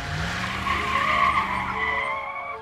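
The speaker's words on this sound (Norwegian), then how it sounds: "hot rods." Cartoon-style hot rod car skidding: a loud, continuous tire screech with a steady engine tone underneath, sustained for a couple of seconds with no talk.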